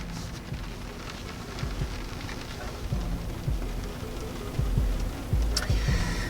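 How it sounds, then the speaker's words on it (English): Rain pours onto the outside of a 2019 Mercedes S-Class, heard from inside the cabin as a steady, muffled patter with scattered heavier drops and knocks. "it is pouring rain"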